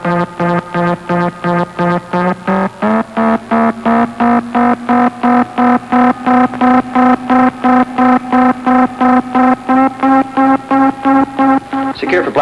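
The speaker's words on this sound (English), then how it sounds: "that noise is our blastoff synchronizer" A pulsing sci-fi spaceship blastoff synchronizer hum, a loud electronic drone beating in fast regular throbs that steps up in pitch after a few seconds and keeps going steadily throughout.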